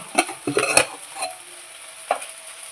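Masala fries in a pan for chana paneer, with a few scraping spatula strokes and clinks against the metal over a soft background hiss.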